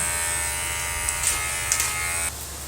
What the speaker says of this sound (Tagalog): ang gamit ko lang yung aking pang ahit ng kilay